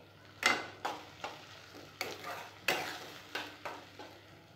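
A frying mix of onion, chilli and poppy seed paste sizzles softly after a splash of water, as a spoon scrapes through it in a regular rhythm of about eight strokes, close and quiet, no talking.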